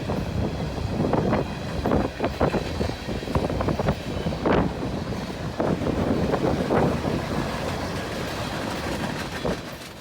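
Strong wind buffets the microphone on an open gravel road on an overcast day, gusty rumbling bursts coming and going with a low rail rumble underneath.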